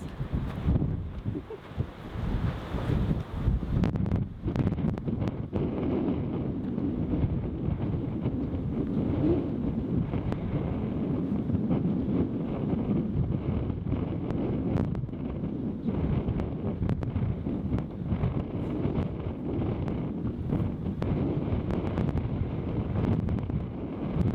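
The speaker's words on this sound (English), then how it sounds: "it's really windy down here" Strong storm wind on a beach buffets and roars steadily for the whole stretch, with gusty rumbling and rushing noise and no talking.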